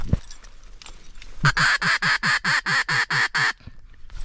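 During a duck hunt in cattails, a duck quacks nearby in a rapid series of about ten loud, evenly spaced calls, after a few faint sounds.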